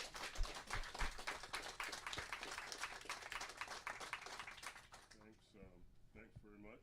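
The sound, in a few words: audience applause for the guests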